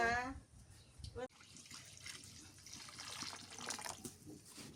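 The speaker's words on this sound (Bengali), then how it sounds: "পানি দিয়ে দিই" Water pours steadily into a large cooking pot of mutton khichuri, a soft continuous splashing that follows a brief burst of talk.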